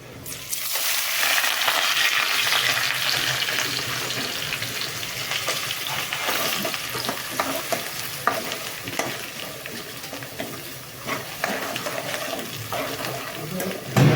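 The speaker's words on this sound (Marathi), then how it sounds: "मस्तपैकी लसूण लाल झाल्या कांदा टाकून घेऊया" Onion is tipped into hot tempering oil with reddened garlic and a chili for a clam curry, giving a loud, steady sizzle and crackle with scraping stir strokes throughout, and no talking.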